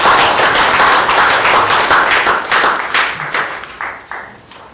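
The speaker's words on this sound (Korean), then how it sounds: "다시 한번 큰 박수를 부탁드립니다." Seminar audience applauding a speaker at a digital printing seminar, close and loud clapping that starts full and gradually thins into scattered, individual claps as it fades out.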